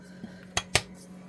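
Two crisp metallic clinks of a spoon against a pot while stirring cabbage, sausage and onion with a bay leaf, close and fairly loud, with a softer tap just before.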